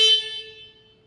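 A single steady honk from a Solis E Series tractor horn with a bright, buzzy tone, sounding close, then fading out over about a second.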